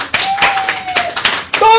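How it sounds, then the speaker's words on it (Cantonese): A studio audience claps in a few loose bursts near the microphone on a Cantonese talk show, with a sustained tone and voices over parts of it. "多謝現場所有觀眾嘅掌聲啊"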